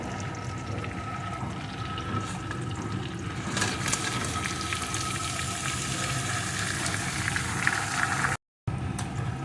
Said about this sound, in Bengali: এখন কাঁকড়াটা আর আলুটা একটু কষিয়ে নেব